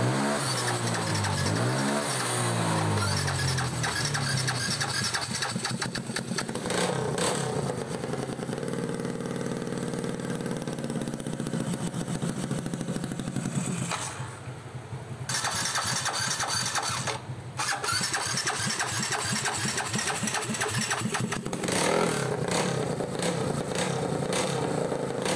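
A 195cc Yamaha Nmax scooter engine starts and settles into a steady idle, running close and continuous with brief dips in level and a buzzy mid-pitched hum throughout.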